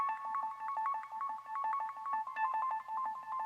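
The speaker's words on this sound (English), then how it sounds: "It almost sounds like someone dialing a phone really fast." Rapid electronic keyboard arpeggios at the close of a spacey mix track, bright repeating tones pattering fast and evenly like quick phone-dialing beeps, alone and steady throughout.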